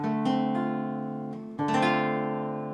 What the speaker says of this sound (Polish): i akord demol septymowy